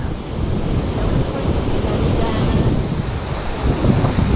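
Heavy wind on a hill at Hanging Rock buffets the microphone in continuous low rumbling gusts, loud and close, with no other clear sounds.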